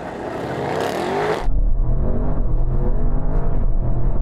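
A BMW M5 CS, Audi RS6 GT and Mercedes-AMG E63 S launch together in a drag race, a hushed idle giving way to a sudden loud, sustained engine roar and steady whir that holds close and strong.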